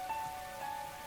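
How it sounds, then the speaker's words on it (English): Heavy rain pelting a rooftop in The Hundred Line, a steady dense patter of drops heard alone under a faint tonal hum. "Oh, and it's raining too. It's really coming down hard."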